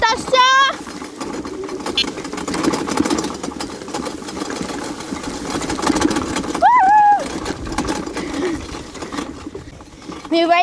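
An electric-assist agricycle jolts across a bumpy farm field, a continuous rattling rumble from frame and wheels running throughout, with voices and a few exclamations over it.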